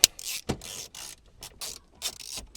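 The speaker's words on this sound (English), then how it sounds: "Grab a 10mm ratchet." A 10mm ratchet undoes the bolts holding the head unit in a Toyota Camry dash, giving a few close, loud bursts of ratcheting clicks with short pauses between them and no talking.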